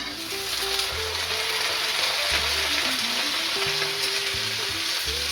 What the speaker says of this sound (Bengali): এগুলোকে আবার একটু ভালো করে ভেজে নেব